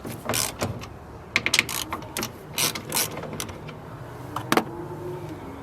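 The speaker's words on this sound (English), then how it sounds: "Next we'll grab our 10mm socket, put it on here, and break these loose." A ratchet with a 10mm socket works loose the mirror screws on a 2019 Honda HR-V, giving close, irregular bursts of clicking and metallic ratcheting with brief pauses between them.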